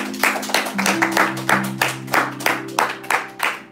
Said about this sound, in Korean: 우리 주님 앞에 박수로 경배하십시다